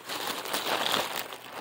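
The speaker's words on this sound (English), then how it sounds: "bubble wrap." Plastic bubble wrap packaging crinkles and rustles continuously as it is handled and unwrapped up close.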